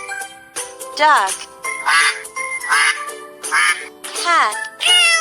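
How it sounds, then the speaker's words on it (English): Several bouncy duck quacks come in a steady rhythm over a tinkling, jingly tune in a children's farm animal puzzle game. "Duck."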